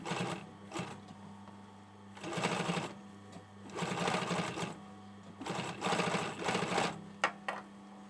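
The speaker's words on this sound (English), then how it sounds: "when I do the next row of stitching I might turn it out" A sewing machine top-stitches the neck edge of a hoodie in several bursts of fast, even whirring with short pauses between runs, close and fairly quiet, with no talking.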